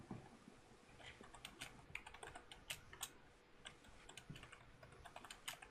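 Fast, quiet typing on a computer keyboard, with light irregular key clicks and occasional sharper taps in a rapid steady patter, faint and alone.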